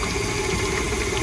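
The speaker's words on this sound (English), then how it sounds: "gonna whip that together until it's nice and creamy together" A stand mixer with a paddle attachment creams soft cheesecake filling for a no-bake creamsicle cheesecake, a steady, even motor hum with a low churning rumble throughout the brief stretch, no voices.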